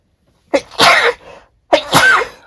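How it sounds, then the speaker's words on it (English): Two close sneezes or sneeze-like bursts, loud and near, each a sharp intake and explosive release with a pause between. "I'm going to sneeze."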